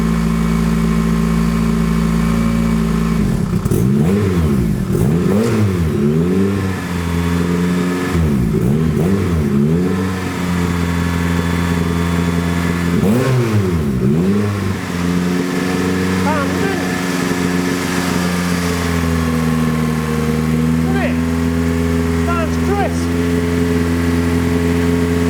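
A forged, turbocharged Honda K20 engine in a buggy running at its first start, idling steadily with several bursts of revving that rise and fall, loud and close, with voices heard over it.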